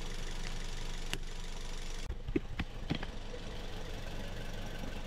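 A car engine idles at a steady low hum, fairly quiet and even, with a few sharp clicks and light knocks breaking through around the middle.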